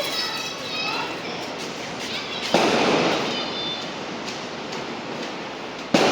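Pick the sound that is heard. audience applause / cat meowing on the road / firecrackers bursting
firecrackers bursting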